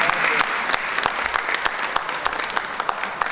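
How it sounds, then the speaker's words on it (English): Dense, steady clapping from a large audience, sustained throughout with sharp individual claps popping out of the wash. "Somebody is clapping. I hope you are clapping."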